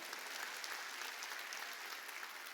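A church congregation at a Korean Wednesday worship service applauds steadily, a dense, even wash of many hands clapping at once that holds at full strength for a couple of seconds with no talk over it.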